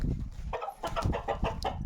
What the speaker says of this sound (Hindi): ये मुर्गा भाग रहा है